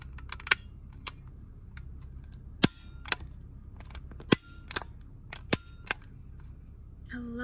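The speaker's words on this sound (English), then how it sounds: "I brought my stapler, and don't worry, I will not staple your face" A stapler clicks close up in a quiet room, a sequence of sharp, irregular snaps spaced about half a second to a second apart, with soft handling noise between them.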